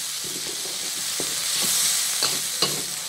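Sambal spice paste stir-frying in a pan for spicy mackerel, a constant close sizzle with light stirring taps and scrapes scattered through it.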